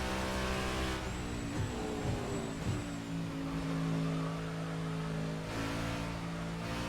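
A Hyperion V8 race car in the Assetto Corsa sim racing game drones at steady high revs, with brief dips as it shifts gear and a thin tire whine, loud and close throughout.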